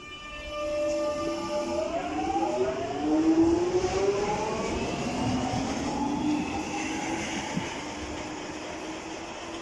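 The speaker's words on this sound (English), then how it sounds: "Off goes Jubilee line service to Stanmore." A London Underground Jubilee line train departs Wembley Park, its traction motors winding up in rising whining tones as it accelerates away from the platform, the rumble steady and fairly close before easing as it pulls out.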